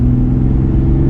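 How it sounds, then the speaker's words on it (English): A 2021 Toyota Supra engine pulls at half throttle under 3,000 rpm with a loud, steady, low drone, heard close and on its own for about a second. "If I do give it some gas and drive,"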